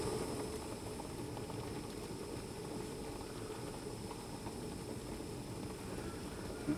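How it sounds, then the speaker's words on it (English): Greens boil in a billy can over heat, a steady low bubbling rumble with a faint hiss, even and continuous at moderate volume throughout. "I can hear something boiling."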